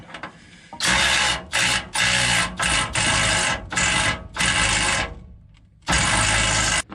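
A power tool whirs in a series of loud bursts, starting and stopping repeatedly with short pauses between each run, while fitting nuts and bolts for a suspension lift on a Dodge Ram 2500/3500 pickup.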